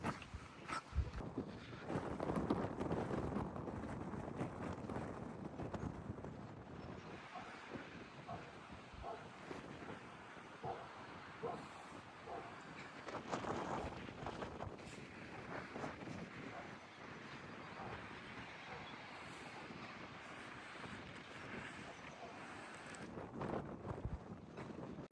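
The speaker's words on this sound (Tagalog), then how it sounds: "malakas kasi yung hangin, masakit to sa tainga" Strong wind buffets the microphone outdoors at the ruins of Edlingham Castle in England, a loud continuous roar of gusts that rises and falls throughout, with no talking.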